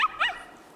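A single short, close bark or yip from a dog in the game Blanc, quick and bright, fading out almost at once.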